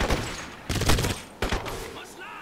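Bursts of rapid gunfire from the first-person shooter Crysis, loud and close, in several separate volleys with short pauses between them.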